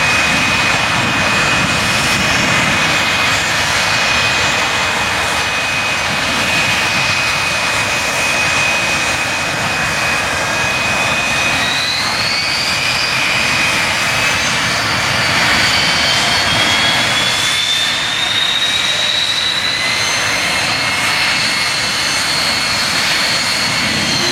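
Aircraft engines at the Dijon air show at Air Base 102, a loud continuous jet roar with a high whine that sweeps upward as an aircraft passes, steady and close throughout with no talk.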